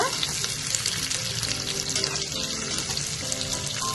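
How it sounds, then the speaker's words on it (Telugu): Onions frying in a pan for vegetable khichdi, a steady close crackle and sizzle of hot oil with faint scraping, no voices. "ఉల్లిపాయలన్నీ కూడా వేగాక"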